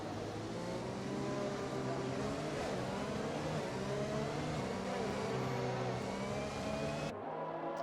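Race cars circle a track behind a safety car in a racing video game, engines droning and whining continuously at a steady mid level, with shifting pitch as cars pass, cutting off abruptly near the end.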